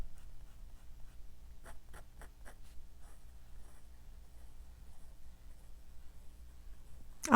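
Stainless steel nib of a High Ace Neo fountain pen moving across paper, a few faint scratchy strokes clustered together close to the mic in an otherwise quiet room, ending with a sharp handling bump.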